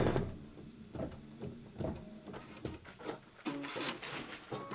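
Embroidery machine stitching mossy centers on a quilt block: rapid rhythmic mechanical clatter with repeated needle bursts and whirring carriage movements, close and fairly quiet, without speech.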